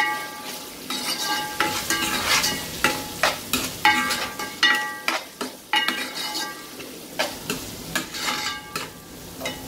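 Carrots and bell pepper sautéing in a pan with cumin, with steady sizzling and repeated scraping stirs of a utensil against the pan, close and fairly loud, no talking.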